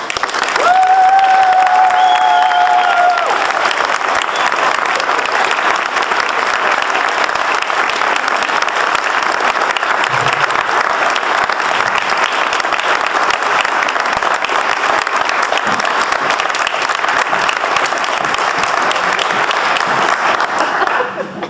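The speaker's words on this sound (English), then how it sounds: "Please join me in welcoming Catherine Morrison." An audience applauds to welcome a speaker at a talk, dense sustained clapping from a large crowd that stays loud and even for about twenty seconds, with a brief whistle near the start.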